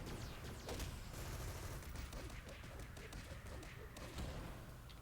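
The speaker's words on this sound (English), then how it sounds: "somebody's shooting at me" Gunfire from enemies in the City of Heroes video game, a steady dense barrage of shots and thuds running throughout amid busy game noise.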